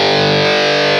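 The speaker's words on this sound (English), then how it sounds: "There's a ton of distortion right now." Heavily distorted electric guitar through a GOAT Analog Distortion Generator pedal, Rockman-style, holding a thick, saturated chord with a fuzzy, buzzing sustain, loud and continuous for about a second.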